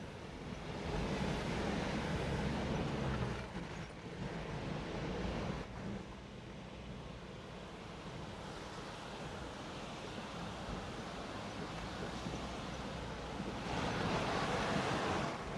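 A fast mountain river rushes below a rough off-road track near Andrab Lake in Kalam, a broad steady roar of churning water mixed with wind buffeting the microphone, swelling louder toward the end.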